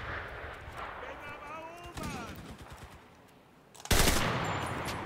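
An MG 30 machine gun fires in the video game Enlisted, with bursts of rapid shots over battlefield noise and a loud blast near the end.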